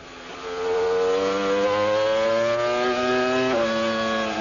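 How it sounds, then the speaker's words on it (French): A 1998 Formula 1 car heads into the first corner at the Spanish Grand Prix, its loud, high engine whine climbing steadily through the gears and dropping briefly at a shift before rising again. "Voilà Frentzen, il est reparti. Et il aborde le premier virage, l'enfilade."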